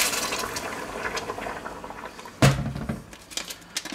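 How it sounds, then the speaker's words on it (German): Water, 300 ml, is poured into a pan of taco filling, giving a short splashing, liquid rush that starts abruptly midway and settles into faint patter and bubbling over kitchen background. "kommen jetzt die 300 Milliliter Wasser hinzu"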